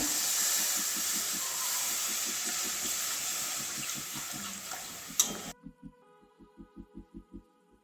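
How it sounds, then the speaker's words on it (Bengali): Water poured into a hot pan of potol paneer curry sets off a loud hiss of steam that cuts off abruptly, leaving a rhythmic background thumping. "এবারে জল দিয়ে দিচ্ছি"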